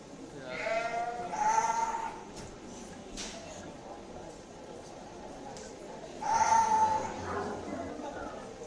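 South Down ewes at a junior livestock show bleating twice, a few seconds apart, over low crowd murmur and background talk.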